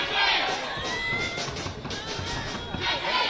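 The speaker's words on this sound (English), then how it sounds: "what you're hearing behind me is someone starting a cheer for County" Crowd at a women's rugby union premiership final between Stirling County and Corstorphine, with someone starting a cheer for Stirling County; steady outdoor crowd babble and scattered shouts, continuous and moderately loud throughout.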